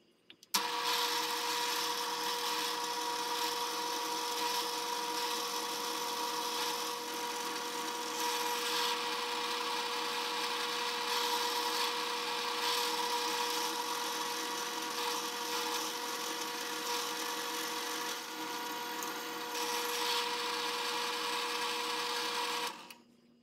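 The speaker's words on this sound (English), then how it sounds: "I'll drill these out separately." A steady, high-pitched drill whine runs continuously for over twenty seconds, close and even in tone, with no talking, as holes are drilled in metal rifle parts for a Kar 98 middle band and bayonet lug.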